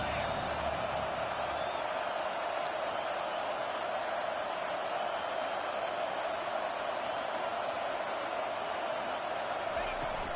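Roaring stadium crowd at a college football game on fourth down, a steady, dense wall of loud cheering and noise filling the air without letup.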